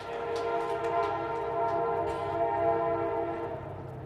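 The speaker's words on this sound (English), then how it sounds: "there's a train" A train passes near a Gaithersburg book festival, its horn sounding as sustained layered tones over a steady rumble for about four seconds, fairly loud and alone without talk.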